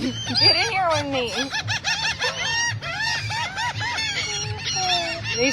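A large flock of seagulls at Clearwater Beach keeps up a busy stream of overlapping squawks and yelps, some close and loud, others farther off, with no break in the calling.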